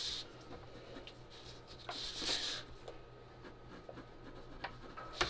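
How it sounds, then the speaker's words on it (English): A pencil scratches across paper under heavier pressure, close and quiet, with irregular strokes and occasional sharper taps over a faint room hum. "that's when you can start going over with your pencil"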